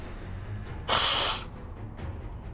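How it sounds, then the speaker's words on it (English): A person blows their nose in one loud, breathy burst lasting about half a second, with softer sniffs around it in a quiet room. "Excuse me as I blow my nose here."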